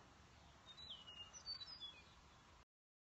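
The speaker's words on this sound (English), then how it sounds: "Y'all hear the birds chirping in the distance?" Birds chirp faintly in the distance over the Texas countryside, a few thin, scattered calls drifting above a steady low outdoor hum.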